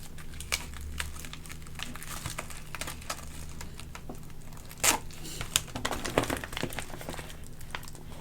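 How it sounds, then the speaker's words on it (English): Tape is torn and pressed inside a plastic Amazon shipping mailer: soft crinkling and scattered ticks, then a sharper ripping burst near the middle and more crinkly handling afterward, all fairly quiet and close. "I would take some tape and place it on the inside."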